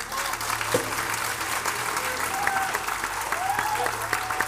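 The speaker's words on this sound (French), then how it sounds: "applaudissez-les" An audience applauds steadily for gladiator reenactment fighters after an exchange of blows, a sustained wash of clapping with a few faint voices mixed in.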